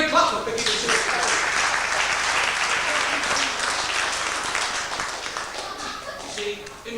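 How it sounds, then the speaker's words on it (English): Audience at an Order of the Magi magicians' club show in Manchester applauds a card trick volunteer, a dense, steady round of clapping filling the room throughout and tapering slightly near the end. "Give her a big clap for picking the two cards."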